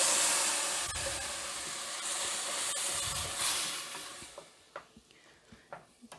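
Ground tomato hits hot oil and spices in a pan for tomato rice, setting off a loud, steady sizzling hiss that slowly fades, broken near the end by a few soft stirring clicks.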